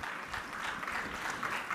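A church congregation applauding in praise, producing a steady wash of moderate clapping that carries on throughout without a break.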